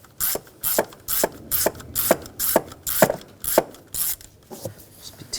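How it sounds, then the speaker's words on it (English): Ratchet wrench with a T25 socket backing out bracket screws on a 2007-2013 BMW X5 3.0L inline-six, a steady run of about eleven sharp clicking strokes, close and alone. "Use a T25 socket."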